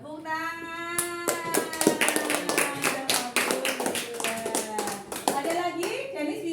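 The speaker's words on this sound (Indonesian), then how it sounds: "Tepuk tangan." Children at a special needs school clap hands in uneven sharp claps close by, mixed with a sustained voice singing or chanting and kids' chatter over the clapping.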